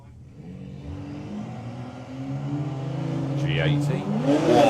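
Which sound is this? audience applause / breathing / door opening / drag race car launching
drag race car launching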